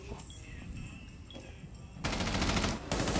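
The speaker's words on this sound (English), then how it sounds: "I'm hearing gunshots and I'm scared." Video game gunfire bursts in rapid automatic volleys, loud and dense in the second half after quieter scattered game sounds.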